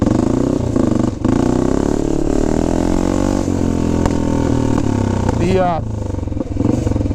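A 1970 BSA Victor Special B44VS motorcycle engine with a racing frame revs loudly and close for the whole stretch, its throttle blips swelling and falling, with one sharp rising rev near the end.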